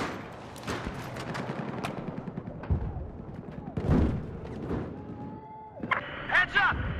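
Shotgun blasts in Battlefield 4 ring out as several sharp, separated booms amid a chaotic battlefield mix of other gunfire and effects, with voices heard between shots.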